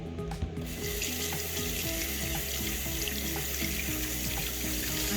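Tap water running steadily into a sink to wet a towel, a close, continuous splashing rush that holds the same level from start to finish.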